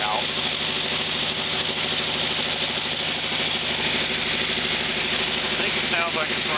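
A 1949 Willys engine, recently replaced with a used unit after valves had rusted shut, runs steadily at a near, even idle with a continuous low rhythmic chug and no pauses throughout.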